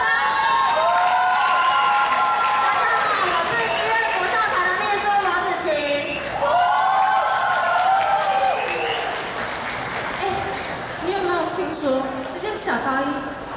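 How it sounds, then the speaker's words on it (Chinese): Applause and cheering from a crowd of high school students at a club fair booth, with loud, sustained clapping and excited shouts and voices ringing through the whole stretch, dipping briefly before swelling again. "掌声。"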